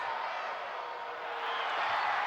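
Home crowd at a professional ABL basketball game, Singapore Slingers versus Chang Thailand Slammers, rising in a steady broad roar of noise while an opponent stands at the free-throw line.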